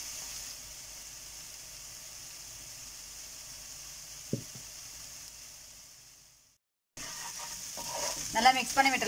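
Tomatoes and chili powder fry in a pan for a Chettinad-style mutton curry, a steady sizzle with a sharp clink of the spoon partway through, a brief drop to near silence, then busier sizzling and stirring toward the end.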